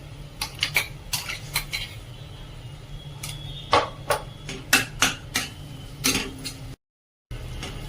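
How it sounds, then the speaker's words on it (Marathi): Spoon or spatula clattering against a metal pan while masala is stirred and sautéed in oil, a series of sharp metallic scrapes and taps in irregular rhythm, close and fairly loud over a low background hum. "हे सर्व साहित्य आपण व्यवस्थित तेल सुटेपर्यंत परतून घेणार आहोत।"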